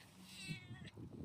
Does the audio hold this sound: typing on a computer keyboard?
no